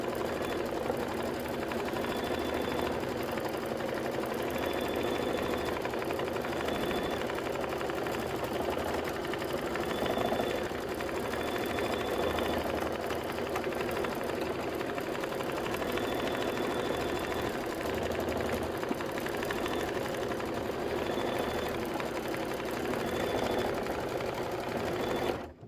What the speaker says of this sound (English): her machine is making strange noises. That's what it is.